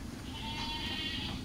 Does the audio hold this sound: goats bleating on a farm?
yes